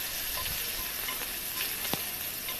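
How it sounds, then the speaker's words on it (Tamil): Sliced onions sizzle in hot oil in a pan for butter bean pulao, a steady close frying hiss with a few light stirring scrapes and pops. "நல்லா எண்ணெயில் வதங்கிடட்டும்."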